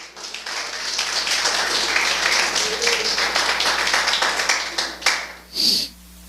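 Church congregation applauds at a Portuguese-language sermon, a dense wash of clapping that holds steady, then fades out near the end with a brief noise bump after it.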